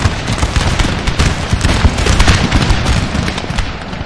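Dense, continuous crackle of massed musket fire from infantry in a Napoleonic-era battle in Total War: Napoleon, loud and close, with overlapping shots rattling steadily for several seconds without a pause.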